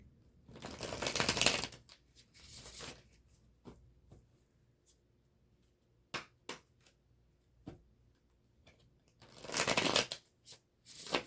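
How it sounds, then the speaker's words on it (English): Tarot cards are shuffled in two bursts of rapid riffling, with softer taps and handling noises in between, close and fairly quiet, no talking. "We'll shuffle it one more time"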